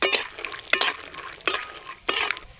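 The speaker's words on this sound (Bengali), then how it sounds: "চিনি বাদামটা হালকা ভাজা করে নেবো।" Peanuts fried lightly in oil in a wok and stirred, heard as four distinct scraping, rattling stirs with a soft sizzle underneath, close by and alone.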